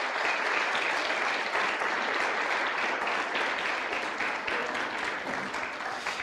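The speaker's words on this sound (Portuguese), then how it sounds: "ser honrada mais uma vez com um aplauso bem forte" A church congregation gives a strong, sustained round of applause for a ministry team, steady loud clapping from many hands filling the room.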